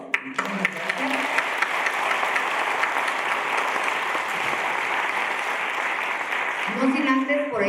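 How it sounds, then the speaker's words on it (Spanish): Sustained, strong applause from a conference audience in Mexico fills about seven seconds, with a voice heard briefly at the start and again as the clapping ends. "con un fuerte aplauso, por favor"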